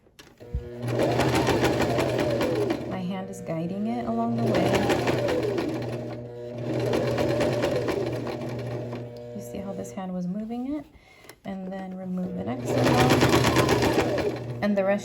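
A sewing machine stitches a straight half-inch seam on a beginner's shirt, running in loud, rapid mechanical bursts of several seconds each with brief pauses between them, and a voice talks over the stitching.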